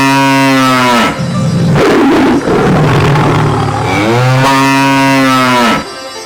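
A cow moos loudly and close by in two long, deep, drawn-out calls separated by a short break, each rising and falling in pitch, with no voices.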